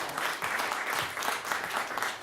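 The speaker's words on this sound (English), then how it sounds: "Give them a round of applause." Audience applause for sponsors during a talk on music and democracy, a steady dense wash of clapping at moderate level for a couple of seconds, without voices.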